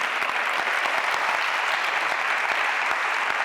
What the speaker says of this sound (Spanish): Dale un aplauso a Jesús, aleluya